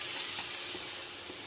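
Milk goes into a hot pan of oil with fried cauliflower pakoras and hisses in a loud, steady, bubbling sizzle that eases slightly as it settles.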